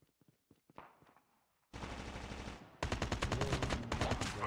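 AK-47 and Arctic 50 gunfire in Call of Duty Mobile: a few soft clicks and steps, then a sudden sustained burst of rapid automatic fire, followed by a second, louder stretch of fast rhythmic shots.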